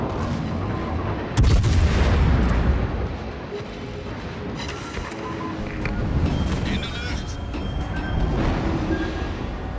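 The warship Haarlem fires its guns in a naval video game: a loud, deep boom bursts out early, followed by lighter rumbling shots and booms, with in-game voices speaking over the action.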